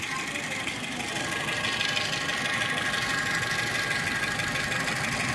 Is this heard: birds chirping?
no